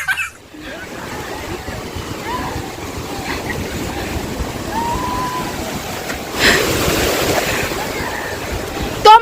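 Sea waves washing onto Digha beach, a steady, close wash of surf roughened by wind noise, with a louder surge partway through and faint voices in the background.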